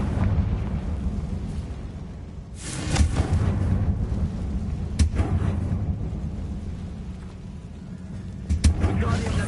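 A Confringo fire blast spell cast in the video game Hogwarts Legacy, heard as booming bursts at about three moments over a continuous low rumble, each burst loud and close, with no speech alongside.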